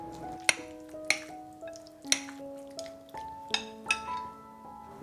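A spoon clinking against a bowl while salt, sugar, Shaoxing wine, soy sauce and oyster oil are stirred together, about seven light ringing taps spaced evenly, close and quiet.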